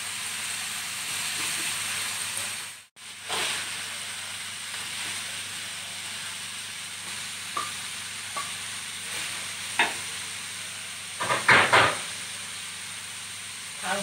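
Carrots and other ingredients for fu yung hai stir-fry in a pan: a continuous sizzling hiss, broken by a brief drop near the start and by several scraping stirs of the utensil toward the end.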